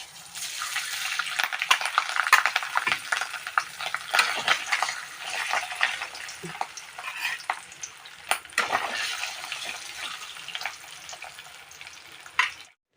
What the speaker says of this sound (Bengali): মাছগুলো আমি সর্ষের তেলেই ভাজা করে তুলে নেব